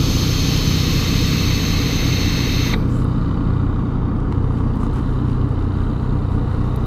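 A motorcycle idles at a red light, a steady broadband engine rumble close by and continuous throughout, with the high hiss dropping away partway through as the motor keeps running.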